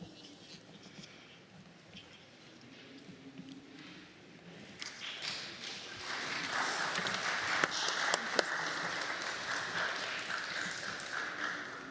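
An audience at a workshop on a gender-responsive just transition claps steadily. The applause starts faint and swells into a full, sustained round of many hands, with a few louder claps standing out.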